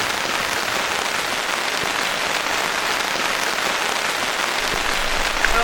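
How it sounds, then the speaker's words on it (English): Steady rain pours down on a hammock campsite while backpacking in a wooded hollow, a dense, even hiss of drops drumming close and continuously on surfaces with no let-up. "the rain's picking up."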